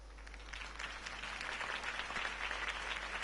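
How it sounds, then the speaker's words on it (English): Steady crowd applause from a political campaign rally in a Batman Telltale video game scene, a dense, continuous patter of many hands clapping at moderate distance with no voices over it. "If only Mr. Wayne, my campaign's largest backer, could have heard that applause"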